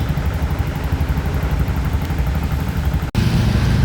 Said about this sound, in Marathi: गाईज इथे जाम ट्रॅफिक आहे